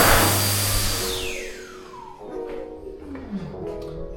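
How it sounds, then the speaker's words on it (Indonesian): A Dyson hand dryer in a restroom blasts loudly and then spins down, its whine falling steadily in pitch over a few seconds, with faint background noise continuing afterward. "mereka pengering tangannya kalau di kamar mandi itu selalu pakai Dyson guys"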